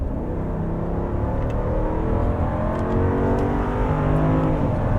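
A 2022 Jeep Grand Wagoneer's engine revs steadily high toward 6,000 RPM, a loud, sustained near roar with rising harmonic tones that hold throughout.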